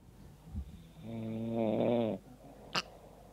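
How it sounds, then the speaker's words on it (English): A man snores once in a recording, a loud, rattling inhaled snore lasting about a second against a quiet room, with a soft thump before it and a sharp click after. "That's me snoring."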